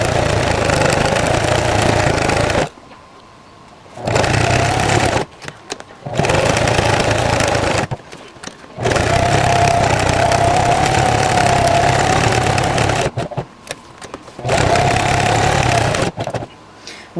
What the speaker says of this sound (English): I also like to go through and just run my machine over it one more time, go all the way around again